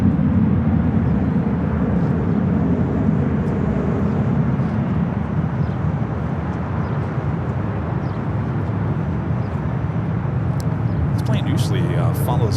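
An Airbus A350-1000 taxis at LAX, a steady distant rumble and roar of jet engines that holds without a break, with a voice talking over it.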